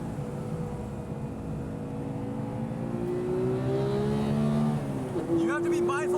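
A stock Porsche 911 991.2 GT3 engine on a race track winds up under load, its tone climbing steadily through the revs, with someone talking over it.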